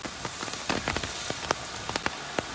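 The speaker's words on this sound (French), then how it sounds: "il y a du vent, il y a de la pluie" Heavy rain pours during a windy storm in Mayotte, a dense, steady hiss broken by sharp drops and gusty splashes, close and loud with no voices.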